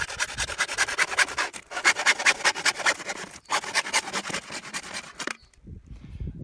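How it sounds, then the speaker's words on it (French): A hacksaw cutting PVC pipe rasps back and forth in quick rhythmic strokes, briefly pausing twice, then stops and leaves near silence. "pour couper du plastique, il ne faut pas une scie à plastique mais il faut une scie à métaux"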